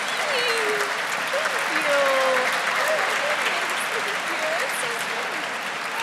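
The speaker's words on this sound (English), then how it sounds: "And I just want you to give her a huge round of applause." An audience at a first-responder charity gala applauds warmly, dense sustained clapping with cheers and voices mixed in throughout, close and loud.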